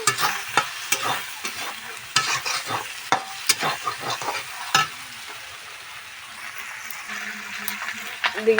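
Fish heads frying with salt and turmeric in a pan, stirred with scraping spatula strokes over a steady close sizzle, while someone speaks over the cooking.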